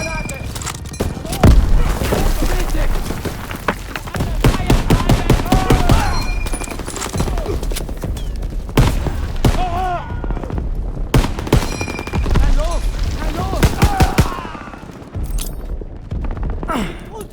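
Battlefield combat in Call of Duty WWII, with rapid gunfire bursts, sharp cracking shots and a heavy blast from a grenade thrown into a bunker, all loud and close while voices shout throughout.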